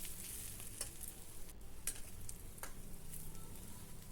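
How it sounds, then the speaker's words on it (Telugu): Country chicken frying in a pan with curry leaves and chili powder, a steady hiss and crackle with scraping stirs of the spoon at intervals, fairly quiet and with no voices. "ఒక 3 నిమిషాలు ఇలా కలుపుతూ వేపుకోవాలి"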